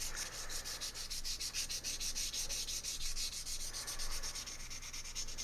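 Primer being sanded smooth on a Webley Premier MK II air pistol before painting. Quick, rhythmic back-and-forth scratchy strokes sound close up and steady, with no talk.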